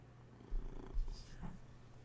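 A pet cat purrs softly and close, a low rhythmic rumbling with a few gentle pulses over a faint steady background hum.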